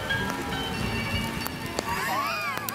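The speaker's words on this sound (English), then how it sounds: "in the rain." Rain patters steadily around a Venetian gondola on the Mediterranean harbour at Tokyo DisneySea, a dense hiss of drops with faint background sounds and brief tonal noises.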